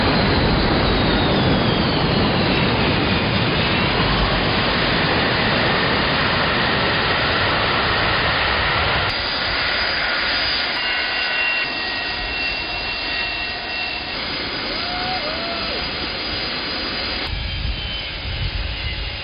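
Jet engines of an airliner in flight to St Barth, a loud steady roar with broad rushing noise filling the whole clip, easing slightly partway through and joined by faint thin whining tones, no talking.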